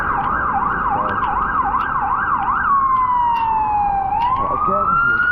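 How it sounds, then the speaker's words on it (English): Loud ambulance siren on a rainy Vancouver street, a rapid warbling wail that shifts into a long falling then rising sweep, close by over constant traffic and rain noise. "Because when an ambulance is coming, you should give it way, right?"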